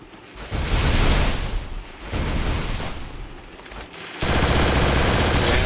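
Sustained bursts of automatic gunfire in the battle game Free Fire during a custom-room match, loud and dense with brief gaps, rattling fusillades repeating across the whole stretch with no talk over them.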